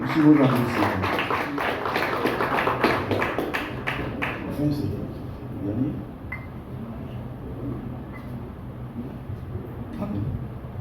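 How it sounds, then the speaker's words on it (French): Applause from an audience at a 30th-anniversary union ceremony, a dense patter of clapping for roughly the first five seconds that then thins and fades into a quieter room murmur. "Si vous applaudissez."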